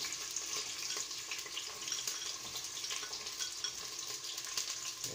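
Onions sizzle and fry steadily in hot oil for a beef curry, with a continuous crackling hiss and occasional stirring clicks, close and moderately loud throughout with no voices.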